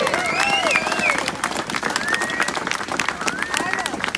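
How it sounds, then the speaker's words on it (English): A crowd applauds and cheers for a brass band at a Liverpool memorial gathering, with steady clapping mixed with whistles and voices chattering in the background. "can we have a huge round of applause to Power Band?"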